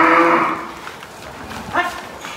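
An agitated cow bellows a loud, low moo up close, followed a moment later by a second, shorter lowing call, with quiet farm ambience in between.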